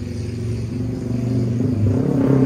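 A stock, unmodified Honda Brutus motorcycle engine fitted with an aftermarket silencer, idling with a low, throbbing exhaust pulse that swells as the engine revs up toward the end, heard close by with no talking.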